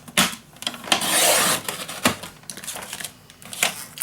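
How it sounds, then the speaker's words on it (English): Paper being scored on a scoreboard for a scrapbook mini album, close scraping and tapping strokes with one longer rasping drag, quiet and uneven in rhythm. "my scoreboard and I'm gonna score at that mark"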